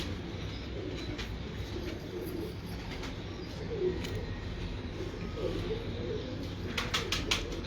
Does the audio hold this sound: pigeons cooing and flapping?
yes